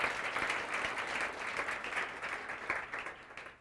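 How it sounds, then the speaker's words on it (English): A lecture audience breaks into sustained applause, dense overlapping clapping from a crowd filling the room at a steady level before tapering off at the end. "please give yourselves a round of applause for that"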